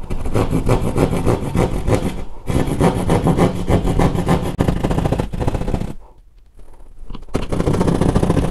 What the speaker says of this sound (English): So again, thanks to Ox for providing this plasterboard saw or jab saw.